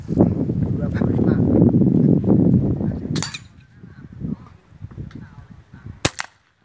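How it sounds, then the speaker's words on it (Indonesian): Two sharp gunshots crack out a few seconds apart at an outdoor shooting range, following a stretch of loud wind-buffeted rumble and murmuring voices. "Tembakan nomor 4 dengan jarak"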